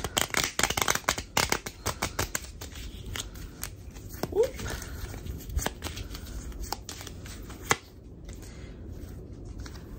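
Quick riffling bursts of a deck of cards being shuffled close by, followed by scattered taps and a brief exclamation from a voice.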